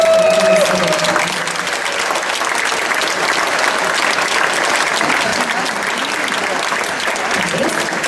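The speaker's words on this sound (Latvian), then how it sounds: "Es domāju, ka aplausi šeit būtu pelnījuši ik viens jūsu kultūras darbinieks." Sustained audience applause fills a hall after a Pierīga district dance ensemble repertoire review, steady and loud throughout with a brief tone at the start.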